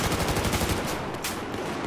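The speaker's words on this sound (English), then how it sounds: "He got off a few bullets." Rapid bursts of automatic gunfire from the Battlefield 4 video game ring out loud and dense for about a second, then trail into a noisy, reverberant wash.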